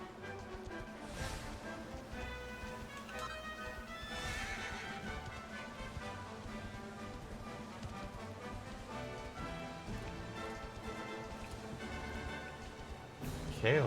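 A video game horse neighs loudly at the start and again midway, over a steady clip-clop of galloping hooves and busy game music.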